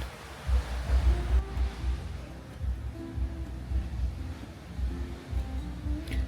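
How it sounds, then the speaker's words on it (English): Ocean waves at sea, heard from a Carnival Jubilee cruise ship: a soft, distant rolling wash under steady wind noise, with gentle swells rising and falling throughout and no talking. "So we're just hanging out, watching the ocean."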